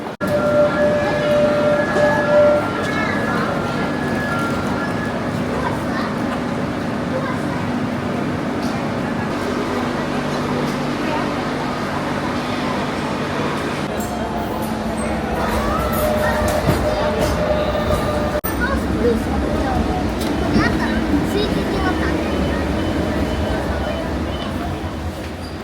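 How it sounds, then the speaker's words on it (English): Passengers ride a train in Barcelona, the carriage giving a steady rumbling drone with faint tonal whines and clatter throughout, while people talk over the noise. "We're on the train."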